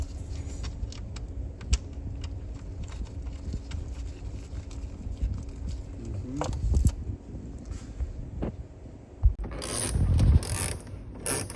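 A ratchet tightens bolts on a bolt-on front sponson for a Fattie, giving faint mechanical clicks over a low background rumble, with a short burst of louder ratcheting near the end.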